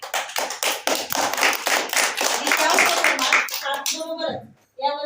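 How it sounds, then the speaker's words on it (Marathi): Children and adults at a closing ceremony and prize-giving of a kids' values class clap for their teacher, a burst of loud rhythmic applause that fades out before a voice begins speaking. "मुलांकडून आमच्या एक टाळ्यांचा जोरदार स्वागत"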